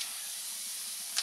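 Dried red chillies sizzle in hot oil in a home kitchen, giving a steady, even hiss close by with a brief flare of spitting near the end, with no voices.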